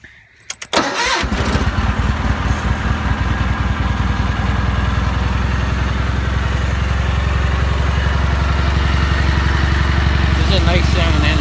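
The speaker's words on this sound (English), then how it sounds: "Nice sounding engine, it's quiet." A repowered Cub Cadet 782 riding lawn tractor engine sputters to life after a brief silence, then settles into a steady, loud idle that runs on without change.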